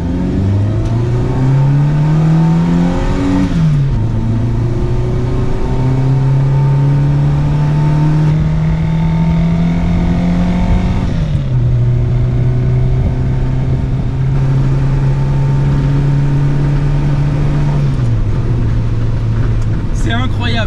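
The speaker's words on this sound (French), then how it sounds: "C'est incroyable, ce bruit de moteur est juste fou." Renault 4L engine fitted with a Zenith 32 carburettor, revving hard through repeated rises and drops in pitch, loud and close, running continuously for about twenty seconds with engine roar dominating throughout.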